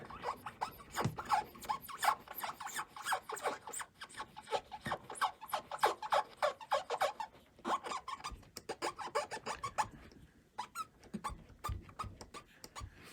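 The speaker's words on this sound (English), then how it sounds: "Okay, head cleaning time." Close, quiet rubbing and scrubbing strokes come from cleaning the tape head of a JVC Victor DD-7 cassette deck, a fast irregular scratching that continues for about thirteen seconds with short pauses.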